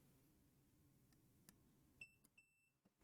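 A faint, short multimeter continuity beep sounds twice in close succession over quiet background hiss, along with a few small clicks, while testing an NES game cartridge connector.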